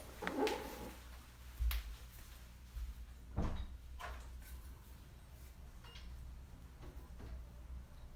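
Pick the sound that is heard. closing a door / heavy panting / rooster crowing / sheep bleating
closing a door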